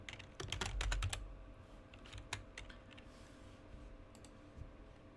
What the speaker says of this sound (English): I have to type in Tobey Maguire.